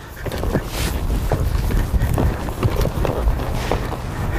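A horse's hooves clip-clopping on the ground as it walks during a riding session, steady uneven footfalls close by with wind buffeting the microphone.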